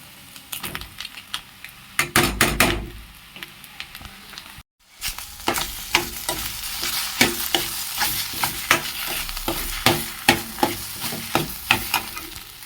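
A spatula scrapes and clatters in a pan as egg with drumstick leaves is stir-fried, repeated sharp knocks over a steady sizzle, loud and close, with one brief silent gap.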